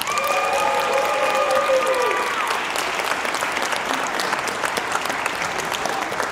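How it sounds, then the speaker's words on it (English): Audience applauding students after a school jazz band set at a winter concert, loud sustained clapping from many people filling the hall, with a few whistles and cheers early on before it settles into even applause. "Please, a big round of applause for all the students."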